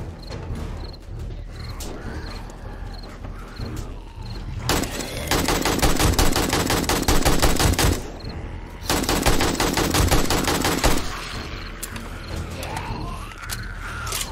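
Gunfire in the video game 7 Days to Die while defending a base, with two long sustained bursts of rapid automatic fire over steady mechanical game noise, loud and close, with no talk.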